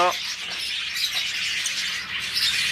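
A pair of blue personata lovebirds give shrill, high chirps and squawks over a busy, hissy background, with bird calls repeating fairly close throughout.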